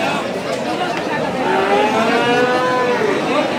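Cattle at the Satmile livestock market, with bulls and calves for sale, lowing in a long drawn-out moo over a constant crowd din and voices.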